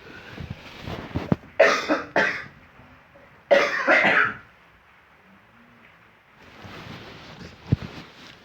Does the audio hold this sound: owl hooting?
no